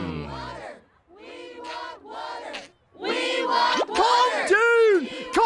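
A cartoon angry mob clamours for water, a crowd of shouting voices rising and falling in loud overlapping bursts, with individual yells and whoops standing out over the din.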